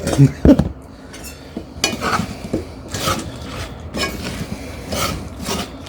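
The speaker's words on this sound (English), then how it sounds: "Give that a stir again so they're nice and coated." Brussels sprouts dusted with paprika get stirred in a pan, a utensil scraping and clinking against the metal in a few separate bursts, with one sharp clatter near the start and a faint sizzle underneath.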